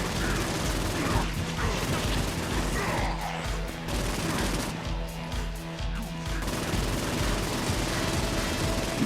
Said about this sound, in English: The battle raged on below, and as bullets and blood flew